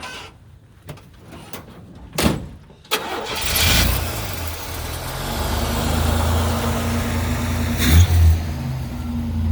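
A few clicks and cranking bursts, then a restored 1940 Chevrolet pickup's engine catches and settles into a rough, rumbling idle close by, with no talking.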